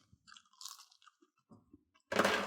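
Crispy dried zucchini chips bitten and crunched up close, a run of brittle crackling bites followed by a louder, denser burst of crunching, with no talking.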